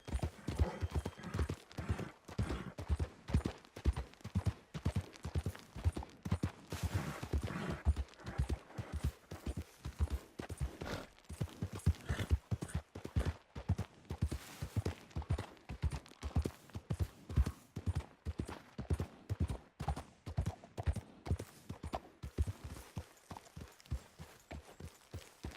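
A horse in Red Dead Redemption 2 gallops in a fast, steady rhythm of hoofbeats that stays close and loud the whole way and slows briefly near the end.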